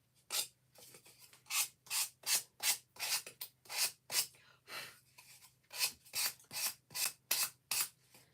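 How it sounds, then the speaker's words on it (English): Rhythmic rasping strokes of sandpaper on the edges of a wooden craft kit with cardstock, about a dozen firm passes in steady succession, close and clear with no talking. "here we're just sanding the edges to get the excess of the cardstock off"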